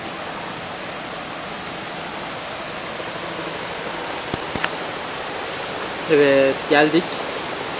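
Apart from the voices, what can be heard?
Victoria Falls waterfall roaring, Zimbabwe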